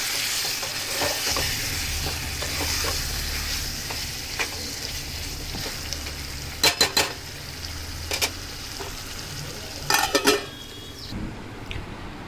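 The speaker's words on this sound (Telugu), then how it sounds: "అప్పుడప్పుడు కలుపుతూ ఉండాలి, లేకుంటే కింద అంటుకుంటుంది కూర అయితే" Chicken curry stirred in a pan, a soft continuous sizzle under the scrape of a spoon, with a few sharp metallic clinks of utensil against the pan toward the end; no voices.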